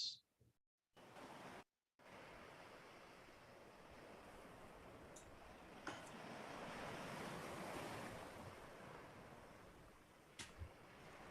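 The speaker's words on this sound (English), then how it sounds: "you can begin to hear the sounds of the rolling waves" Waves rolling onto a coastline, a soft, distant wash that swells gently and recedes, faint and continuous after a couple of brief gaps at the start, with a few small clicks.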